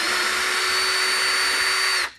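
Unscrewing size 4 hex screws from the shell of an InMotion V8F electric unicycle with a power driver, a steady high-pitched whir held for about two seconds before stopping abruptly.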